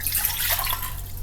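Water is poured into a small saucepan, making a steady, close splashing trickle that lasts the whole moment, with no talking.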